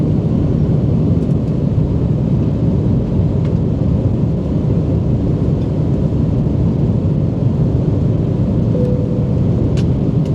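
Inside an airliner cruising from Srinagar to Delhi, a steady, loud low roar of cabin and engine noise fills the space without a break, and no one speaks.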